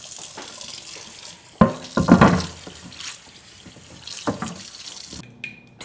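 A kitchen knife is rinsed under a running tap at a sink while preparing Korean radish salad; steady water flow splashes against the blade with clattery bursts, close and moderately loud, ending in a brief pause.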